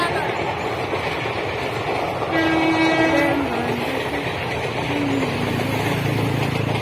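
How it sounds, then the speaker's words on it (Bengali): A train rumbles past close by, sounding a long drawn-out horn, with people talking over the steady rail noise. "দেখো ট্রেন যাচ্ছে, কত সুন্দর।"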